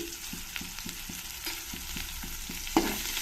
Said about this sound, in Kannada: ಇದನ್ನು ಸ್ವಲ್ಪ ಫ್ರೈ ಮಾಡ್ಕೊಳ್ಳೋಣ ಈರುಳ್ಳಿ ಸ್ವಲ್ಪ ಲೈಟಾಗಿ ಗೋಲ್ಡನ್ ಬ್ರೌನ್ ಆಗಿ ಫ್ರೈ ಆಗ್ತಾ ಇದೆ